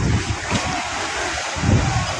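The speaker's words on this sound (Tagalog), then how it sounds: "Yung salpok ng alon hindi ko pasok sa atin." Big waves crash and surge against a fishing boat on Manila Bay during a super typhoon, heavy wind noise roaring over the mic, with surging low swells that peak near the start and again toward the end.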